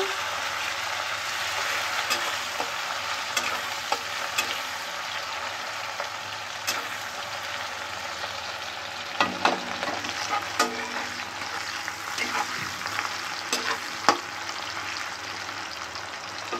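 Onions fry lightly in a pan with a constant soft sizzle, broken by occasional stirring scrapes and a few louder clatters midway; nobody speaks.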